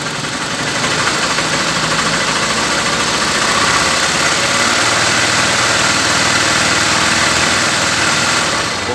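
A Honda CG 150 Titan motorcycle engine runs loud and steady nearby during a battery charging test, a continuous rumbling drone with slight rises in revs but no speech.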